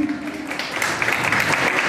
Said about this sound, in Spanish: Un fuerte voto de aplauso para Mayrí.